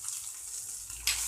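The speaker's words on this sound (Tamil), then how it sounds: "அப்புறம் இதை ஜீரகத்தை போட்டு பொரிச்சிட்டு கருவேப்பிலை, பெருங்காயம் அதெல்லாம் போட்டுடலாம்." Cumin seeds fry in hot oil, giving a soft, steady sizzle that swells into a brighter crackle near the end.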